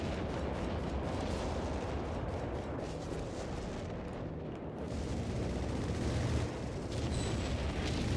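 Artillery fire rolls continuously across a Company of Heroes 3 multiplayer battlefield, a dense, loud rumble of overlapping blasts and booms with no clear gaps.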